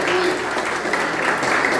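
A church congregation applauding at a December family gathering service, a steady, full wash of clapping that holds evenly throughout with a faint voice beneath it.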